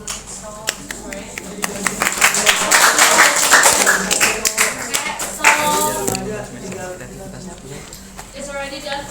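Students clap after an English debate session in class, with scattered claps growing into brief applause while people talk and laugh over it before it fades.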